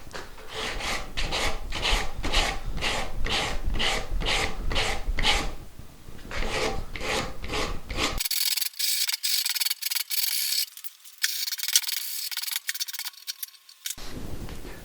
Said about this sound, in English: I'm just going to clean this top edge up with a block and some sandpaper